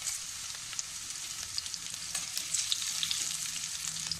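Curry leaves crackling in hot oil with mustard seeds, dal and garlic, a steady close hiss dotted with small pops, continuing alone without talk.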